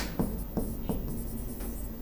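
Handwriting notes in Hindi during a lesson on the history of language and literature: a few soft pen strokes scratch in short bursts, close and quiet, with no talk.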